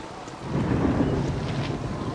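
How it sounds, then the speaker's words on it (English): Rain begins in the fantasy role-playing game Baldur's Gate II as a rumbling, steady wash of rainfall and low thunder, swelling after the first half second and holding at a moderate level. "It's starting to rain."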